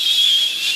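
A voice imitates a steady high whistle, like wind leaking through a car window at high speed, held briefly and alone.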